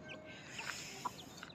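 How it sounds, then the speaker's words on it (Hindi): Chickens kept on a backyard farm cluck softly on a winter morning, a few quiet, scattered calls over faint background hiss. "मुर्गियों को मैंने निकाल लिया, दाना पानी डाल लिया।"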